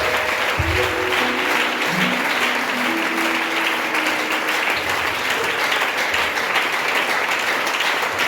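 Congregation at a church teaching session applauding together, a dense, sustained wash of clapping throughout, with a brief voice and musical tones faintly underneath at the start.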